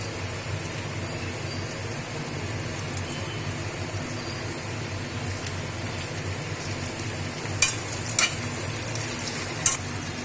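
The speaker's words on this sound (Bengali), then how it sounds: "এইবার আমি টমেটো দিয়ে দেবো।" Tomatoes added to half-fried potatoes in a wok for a mutton curry, giving a steady, close sizzle throughout with a few sharp clicks of utensils near the end, and no voices.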